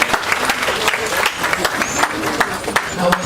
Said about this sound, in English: Is somebody clapping for Baba one more time, please?